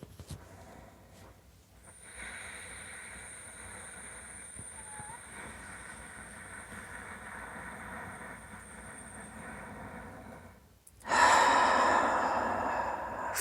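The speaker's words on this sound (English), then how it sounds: "Just doing a little ujjayi breathing." Ujjayi breathing, a long slow hissing breath drawn out over several seconds, close and soft, followed by a louder, rougher exhale near the end.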